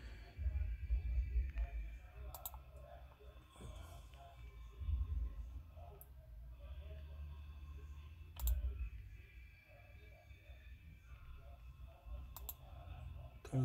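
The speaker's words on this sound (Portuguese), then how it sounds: "Deixa eu mexer com outra mão aqui no mouse." Computer mouse clicking in a workshop while calibrating the steering angle sensor on a Peugeot-Citroën C4 Pallas after wheel alignment, sparse faint clicks spread over a low background hum, with low murmured talk in places.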